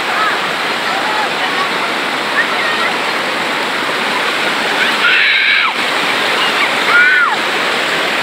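The Majayjay river in Laguna rushes loudly and steadily, a dense roar of falling water with faint shouts and whoops briefly audible above it.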